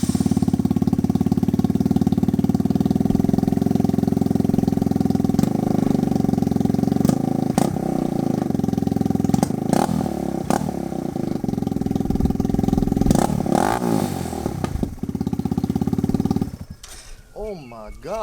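A Kawasaki Z125 Pro motorcycle fitted with a Zoom Brute full exhaust idles loudly and close up, then rises through several sharp revs before the engine cuts off near the end.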